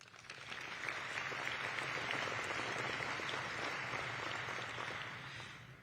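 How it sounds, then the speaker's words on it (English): Sustained audience applause at a scholar-athlete awards program, dense steady clapping that swells in and holds for several seconds before tapering slightly, with no talk over it. "Please give a special round of applause"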